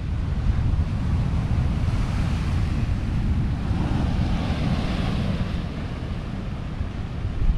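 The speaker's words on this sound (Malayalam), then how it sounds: "പക്ഷെ തെര ഇങ്ങനെ അടിക്കുമ്പോൾ വല്ലാത്തൊരവസ്ഥ തന്നെ കേട്ടോ" Sea waves crash and surge against a breakwater in a constant low rumbling roar with wind buffeting the microphone, swelling slightly and loud throughout.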